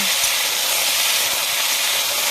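Cut vegetables being stirred in a hot pan, a loud continuous hiss and sizzle filling the whole moment with faint low knocks of the stirring, no voices.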